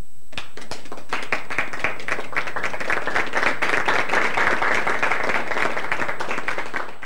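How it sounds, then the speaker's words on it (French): A television game-show studio audience in a launch broadcast cheers and applauds to welcome the contestants, with dense, steady clapping filling about seven seconds at a loud, close level. "Maintenant, par les acclamations, ils vont se faire présenter."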